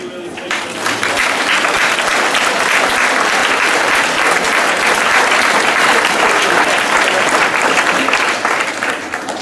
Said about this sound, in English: Let's give those people a really, really big applause.